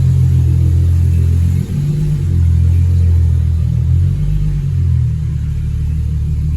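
A Holden VY Calais drift car converted to manual rumbles loudly up close, revving and pulling away with low, throaty acceleration and a brief dip as it shifts.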